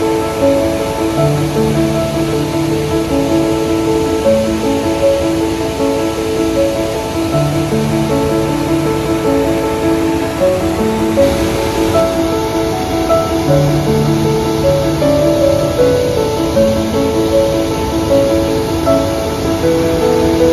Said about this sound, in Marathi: छोटासा धबधबा आहे बघा इकडे आडिवऱ्याच्या इथे, दाखवतो